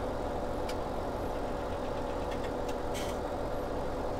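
A New Holland tractor engine idles in the Farming Simulator 17 video game, a steady low mechanical rumble throughout with a few faint clicks on top, no voices.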